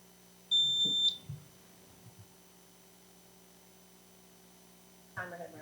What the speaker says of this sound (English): Timer has run out on that one.